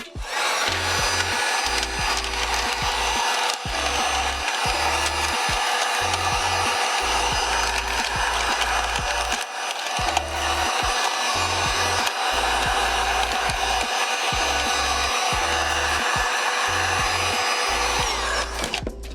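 Heat gun shrinking sublimation shrink wrap around a stainless steel bowl: a loud, continuous blowing roar held close for the whole stretch, with faint rustling and crinkling of the wrap underneath and no talk.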